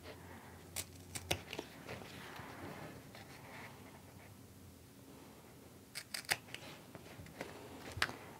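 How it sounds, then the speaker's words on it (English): Scissors snip fabric pieces for a sewn frame wallet, with sparse, quiet, close clicks of the blades at scattered moments over a faint room hiss. "go ahead and cut the rest of the way down one side, making sure to stop at the tip of that V and then clip out those corners"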